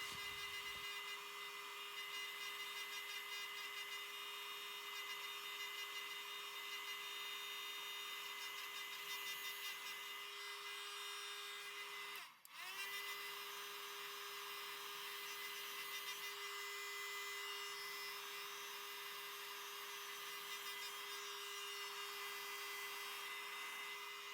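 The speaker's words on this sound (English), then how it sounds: "I'm using the heat gun to melt the embossing powder" A heat gun melting embossing powder on a 3D embossed craft surface blows with a steady, loud hiss and drone, broken by one brief dip midway before it resumes.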